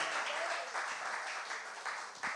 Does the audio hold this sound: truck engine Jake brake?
no